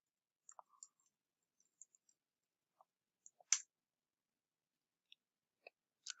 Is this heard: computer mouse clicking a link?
yes